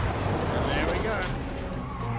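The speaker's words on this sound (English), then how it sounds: "Start the car." In a video game, a car starts and pulls away with a tire squeal and rising engine noise, rather faint and partly drowned by game voices and background sound.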